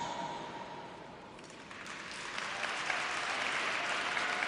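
Applause and cheering from a figure-skating arena crowd at the close of a Junior Grand Prix pairs short program in Linz, a steady broadband wash that swells louder over the final seconds.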